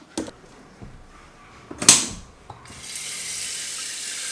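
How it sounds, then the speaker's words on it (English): A few clunks and a sharp clatter as a Lidl coffee machine's water reservoir is handled, then a kitchen tap starts running, filling it with a steady, close hiss of water. "Okay, let's fill up some water."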